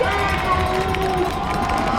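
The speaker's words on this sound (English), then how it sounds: "And the crowd is getting into it here." A high school football stadium crowd cheers steadily during a 4th-and-short play in a city trophy game, a dense continuous roar of many voices and shouts filling the whole span.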